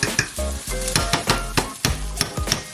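Butter foams and sizzles loudly in a pan with steak, garlic and a bay leaf, punctuated by rhythmic metallic scrapes and taps of a utensil about twice per second.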